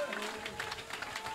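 Church congregation clapping hands during praise at a holy convocation: rapid, dense, steady handclaps from many people, with music and voices mixed in throughout.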